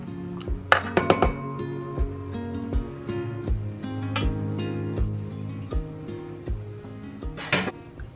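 A utensil scrapes Duke's mayonnaise from a jar in a kitchen, producing faint, irregular scrapes punctuated by several sharp clinks and knocks, with no one talking.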